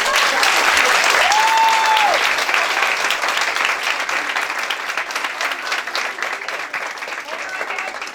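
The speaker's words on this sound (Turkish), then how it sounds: "bir kere daha alkışlar benim çocuklarım" A school audience applauds a primary-school class after their rainbow fish show, a loud, dense and steady clapping that fills the whole stretch and eases slightly toward the end, with a brief tone and voices faint underneath.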